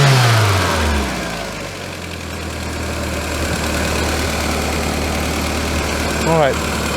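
A VW Scirocco MK2 engine runs close by with a lean sputter, a steady low idle rumble with rough, uneven firing throughout and a brief rising chirp near the end.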